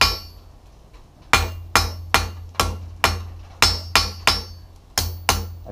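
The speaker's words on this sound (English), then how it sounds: "lay it back down on the anvil and continue your taper down this side as far as you went on this side" Steel tongs being tapered with a hammer on an anvil: a steady series of about eleven sharp, ringing metallic blows, close and loud, each decaying quickly, with a low hum underneath.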